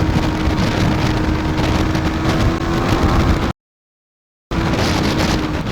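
A KTM Duke 390 motorcycle engine pulls hard in third gear toward redline, a loud, steady droning roar with heavy wind noise buffeting the microphone. The sound cuts out for about a second, then resumes.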